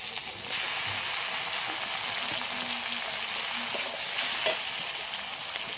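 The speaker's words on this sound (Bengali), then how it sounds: "এবার পেঁয়াজ কুচি দিয়ে দিচ্ছি" Chopped onions fry in a pan for a prawn malai curry, giving a steady broadband sizzle throughout with a soft stirring scrape near the end; no one speaks.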